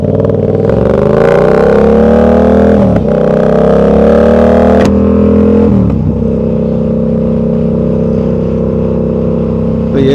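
A 1000cc motorcycle fitted with an aftermarket eBay exhaust, running loud and close, revs up in rising pulls with sharp shifts and drops, then settles into a steady throaty drone.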